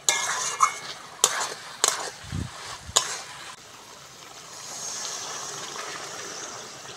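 Water poured into hot oil and spice paste for a Bengali makhana curry, with a few sharp clinks of a spoon against the pan, then a steady, softer sizzle that settles into a bubbling hiss.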